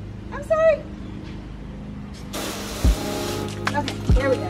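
A power washer sprays in a front yard during spring cleaning, a broad hissing jet starting midway and running steadily, with a bird chirping and someone talking briefly over it.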